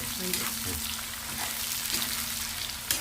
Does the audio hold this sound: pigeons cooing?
no